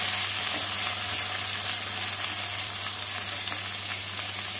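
Chopped tomato fries with onion in a pan, a dense, even, hissing sizzle that is continuous and fairly close, with a steady low hum underneath and no voices.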